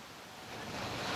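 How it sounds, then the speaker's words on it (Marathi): A small waterfall in hilly, misty country gives a steady, broadband rush of falling water that swells slightly louder toward the end, with no voices. "छोटासा असा धबधबा आहे,"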